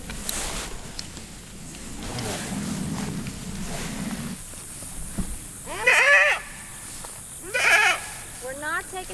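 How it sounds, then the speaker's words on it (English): A stray goat bleats twice in loud, wavering cries near the end, followed by a shorter bleat, after a stretch of quieter shuffling and background noise. "Man, it's crying."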